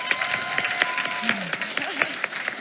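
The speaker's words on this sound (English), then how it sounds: "let's give her another round of applause." A crowd at a school board meeting claps steadily throughout, with scattered louder claps and a few faint voices mixed in.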